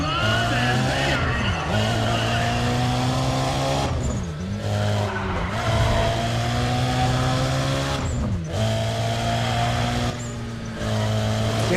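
A Porsche GT2 race car in a racing video game screams at high revs through corners, its engine note dipping and climbing with each shift while tires squeal and skid under the steady, loud roar.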